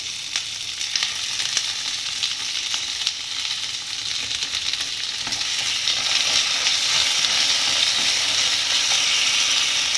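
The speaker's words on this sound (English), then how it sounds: "after the oil is nice and hot, I am adding the onions and the capsicum along with some ginger garlic paste" Onions and capsicum with ginger garlic paste frying on high heat in hot oil, a loud, steady crackling sizzle with occasional stirring scrapes, no voices.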